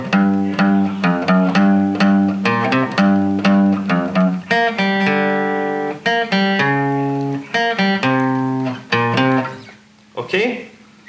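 Guitar playing two practice sections back to back, a steady run of close plucked single notes and ringing tones forming a continuous melodic line that thins out near the end.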